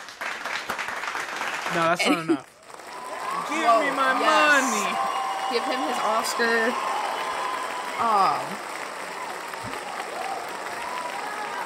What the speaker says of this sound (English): I need the clapping sound.